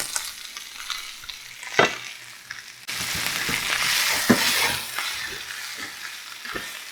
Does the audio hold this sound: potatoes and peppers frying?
yes